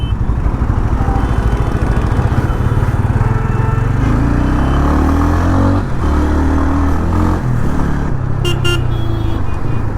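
A TVS Ronin motorcycle engine is recorded close-up, loud and steady, as it rolls along in second gear with no throttle. The note holds at an even idle-like thrum with small shifts in pitch, and wind noise runs throughout.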